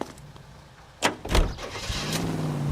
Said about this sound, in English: Get in and drive.